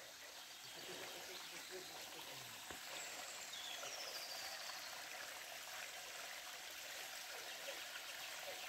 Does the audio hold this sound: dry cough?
no